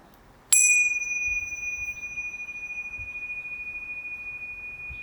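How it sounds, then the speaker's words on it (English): A bright chime tone strikes once and then rings on as a long, steady sustained tone that slowly decays over a faint hiss of background noise. "at the sound of the tone, the sound of the chimes"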